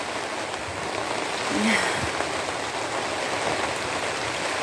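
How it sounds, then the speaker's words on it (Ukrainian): Heavy rain pours steadily onto surfaces outdoors, a dense continuous hiss of drops with no letup, loud and close throughout. "Та і в нас дощ ліпе, он такий, що не дай Бог."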